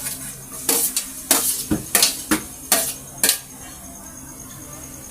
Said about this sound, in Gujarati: હવે આપણે નાખી દઈએ ટમેટા.